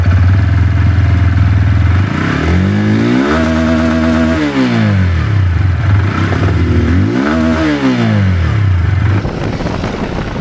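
A Bajaj Pulsar N125 motorcycle revs hard through rising and falling gear pulls, its mid-pitched engine loud and close throughout, easing off near the end.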